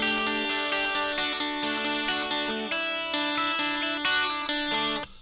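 12-string guitar on the bridge pickup through delay, spring reverb and a Vox amp simulator rings out a bright, jangly chiming pattern of repeated strummed and picked chords, sustained and shimmering for several seconds before stopping.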